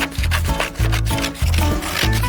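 Rhythmic back-and-forth cutting strokes through material for a handmade dollhouse, about five close, loud strokes in steady succession, with no talking.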